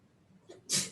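A single short sneeze bursts out sharply after a brief intake of breath, close and loud in a quiet classroom setting.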